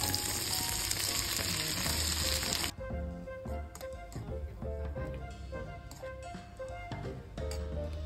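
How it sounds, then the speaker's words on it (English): Frozen vegetables cook in butter in a hot pan with a loud, steady sizzle for the first few seconds. It then drops to a quieter sizzle under light background music. "let's cook the frozen veggies in butter"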